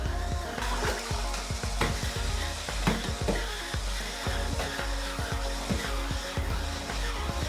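A Clorox Scrubtastic electric scrub brush whirs and grinds steadily, its motor pitch dipping and bogging down in repeated bursts as it stalls, with scrubbing noise throughout.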